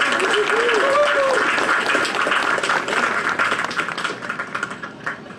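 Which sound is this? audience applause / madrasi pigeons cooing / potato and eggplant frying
audience applause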